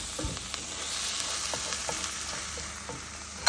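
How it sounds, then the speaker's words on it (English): Eggs being scrambled in a hot pan, a steady sizzle broken by light scraping and tapping as a utensil stirs, close and alone. "So now we're just gonna go ahead and mix this up. Scramble it a little bit."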